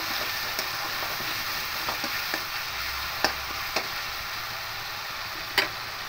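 Onions sizzle steadily in a pan as tomato paste is stirred into them, with soft continuous frying hiss and a few sharp clicks and scrapes of a spoon against the pan.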